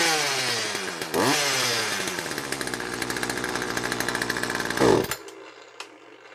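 A Poulan Wild Thing chainsaw fires up and runs loud and close, its engine revving and settling at a slightly lean-sounding idle before cutting off abruptly near the end.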